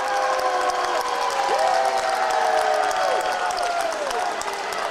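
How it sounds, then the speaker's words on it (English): A basketball crowd at a Division 3 regional semi-final, Bishop Watterson supporters, gives sustained derisive applause, a dense wash of clapping with shoe squeaks cutting through the gym noise. "this is some derisive applause from Bishop Watterson"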